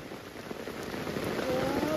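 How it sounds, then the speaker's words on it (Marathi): Heavy rain pours steadily onto surfaces at the start of a first monsoon downpour by a river, a dense close hiss that grows slightly louder. "आता पाऊस वाढला आहे"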